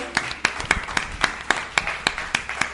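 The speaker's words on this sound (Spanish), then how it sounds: "Me gustaría, por favor, que dierais un aplauso." Sparse rhythmic clapping from a small group at a live gaming podcast session, about ten distinct claps in a loose beat, fairly close.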